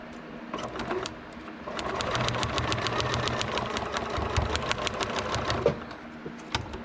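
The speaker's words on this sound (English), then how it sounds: "And then we'll sew." A sewing machine stitches a paper-pieced miniature quilt block, a steady close run of rapid needle clicks over a motor hum lasting several seconds, starting and stopping quietly with no talking.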